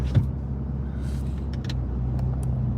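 Morning road traffic rumbles steadily at low pitch, engines droning from a nearby roadway with a few faint higher clicks and hisses, no voices.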